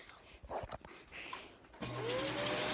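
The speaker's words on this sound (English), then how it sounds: "Now, if you excuse me, I'm going to vacuum." A household vacuum cleaner starts upstairs after some quiet handling noise and a voice, then runs with a loud, steady motor whine and hum close by.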